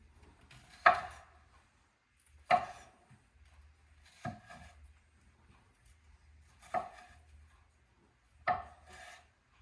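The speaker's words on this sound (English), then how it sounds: "Just cutting the onion for julienning." A knife chops an onion into julienne strips on a wooden board, five distinct, evenly spaced cuts with quiet pauses between them.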